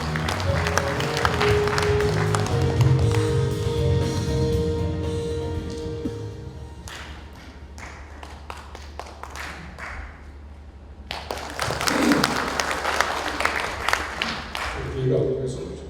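An audience at a university lecture claps to welcome an honorary president to the podium: strong applause at first that thins and fades, then swells again with background voices and crowd murmur.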